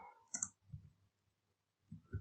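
Computer keyboard typing during coding work: a few short clusters of key clicks separated by a quiet pause, close and fairly soft, with no talking.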